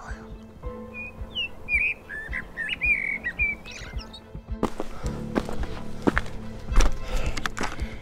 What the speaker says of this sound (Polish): Ładnie kosy śpiewają.